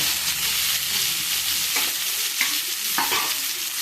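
Boiled green bananas, added for a Bengali curry, sizzle steadily in hot oil in a pan, a loud continuous hiss broken by a few scraping stirs of the spoon, with nobody talking.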